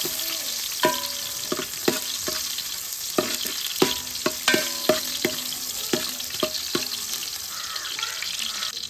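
Garlic and green chili fry in coconut oil for veg fried rice, a busy close sizzle broken by irregular clinks and scrapes of a spoon stirring against the pan.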